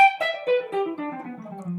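A clean electric guitar plays a quick descending country jazz lick of single notes, bright and twangy, heard alone and up close.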